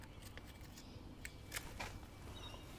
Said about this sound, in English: I'll get my little tweezer scissors, try and clear out some of that flaky stuff